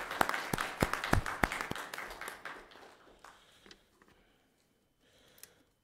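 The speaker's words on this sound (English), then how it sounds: "Let's give Dr. Rochelle a round of applause." Brief applause at a school board meeting: a handful of sharp, close claps that quickly thin out and fade to near silence, with a faint sound near the end.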